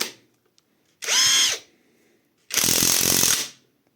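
A new Catpower 4226 cordless impact wrench running with a socket fitted, giving two loud close bursts of whirring, hammering rattle, one short and one longer, separated by silence.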